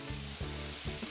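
Spoonfuls of batter for rojak pasembur frying in hot oil over a low flame, a soft steady sizzle with faint bubbling pulses, quiet and close.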